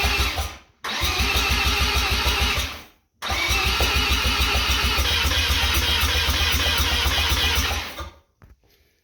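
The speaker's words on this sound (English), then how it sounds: "We remained persistent through what seemed to be an endless line of failed attempts to get the engine to start." A 1987 Mazda RX7 FC turbo rotary engine cranks without starting. It gives a short burst, pauses briefly, then makes a long, rapid, rhythmic cranking run that stops abruptly, loud and close.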